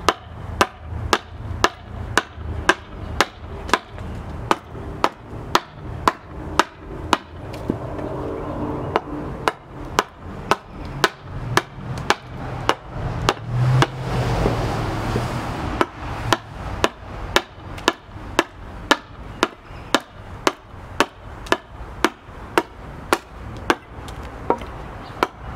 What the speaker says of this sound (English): if a double bevel hatchet is what you've got, it will still hew wood to get these bevels.